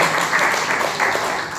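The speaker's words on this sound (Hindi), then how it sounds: "जोरदार तालियां बजाइए एमबीएस के लिए" An audience at a talk claps together in steady, dense applause that holds at an even level throughout, with no lulls.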